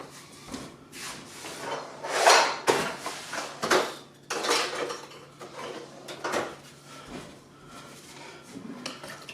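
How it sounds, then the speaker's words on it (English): Jalapeño pickling brine with crushed garlic being stirred in a container, giving repeated close scraping and clattering strokes of a utensil, uneven and moderately loud, with no talking. "we're going to give this a good stir"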